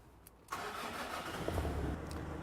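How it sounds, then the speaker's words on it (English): A car engine is started during a diagnostic scan-tool demo: a brief quiet, a cranking catch, then the engine settles into a steady, close idle hum. "now we're going to turn the engine on so we can see live data values."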